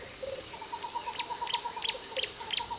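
A great blue turaco calls from a rainforest canopy, giving a fast series of soft repeated notes mixed with higher chirps, moderately distant over a faint forest background.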